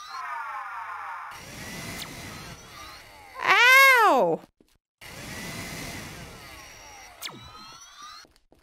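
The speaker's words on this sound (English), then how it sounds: "Did I just use a vacuum?" A vacuum cleaner whirs in the game Kommersant, a rising and falling whine that cuts off abruptly between bursts of electronic game sound effects.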